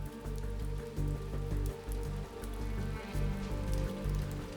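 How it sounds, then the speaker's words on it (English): Steady rain patters on a surface, a dense continuous wash of drops with slight swells in intensity, no voices. "The rain picks up a little."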